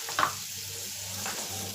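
Butter melting in a pan on a lit stove gives a soft, steady sizzle with a brief brighter crackle near the start, fairly faint and with no talking.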